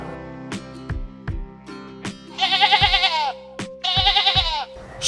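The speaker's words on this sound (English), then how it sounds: "sheep" Sheep bleating twice in loud, wavering calls, close by, with light percussive music tapping underneath and no talking.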